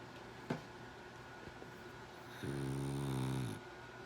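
A pet dog snores at 2 a.m. with one long, soft, rumbling breath in a quiet room at night, close to the listener, over a faint steady hum.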